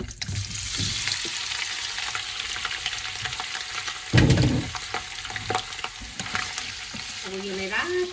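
Pork meat fries in hot oil with garlic, onion and timur paste, a continuous sizzle broken by a louder stirring scrape midway, with brief voice sounds near the end.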